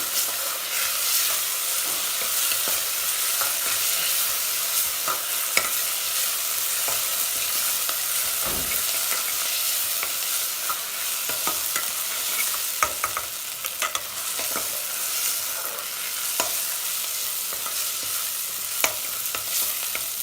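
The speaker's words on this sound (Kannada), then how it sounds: "ಇದು ಚೆನ್ನಾಗಿ ಫ್ರೈ ಆಗಿ" Gongura chicken curry masala paste fries in a pan and is stirred, giving a steady loud sizzle for the whole stretch with occasional scraping stirs and no voices.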